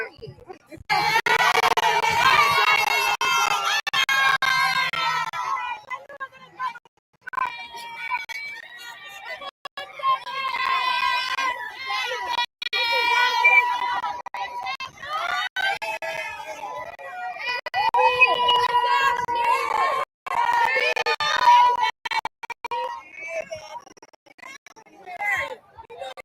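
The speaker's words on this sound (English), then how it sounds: "I knew it was gonna be a crowd." A crowd of people shouting and chattering at a busy audition line, a dense overlapping babble of excited voices that stays loud and continuous throughout.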